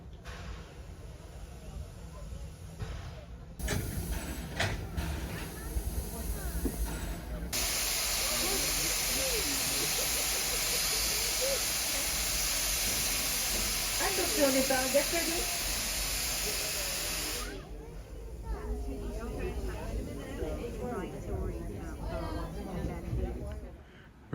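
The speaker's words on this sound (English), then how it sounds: "Our train is about to pull away from Main Street Station" Disneyland Paris Railroad steam locomotive pulling away from Main Street Station, a loud broad hiss of venting steam that rises after a few seconds, holds for about ten seconds, then drops back to quieter rumbling with faint chuffing.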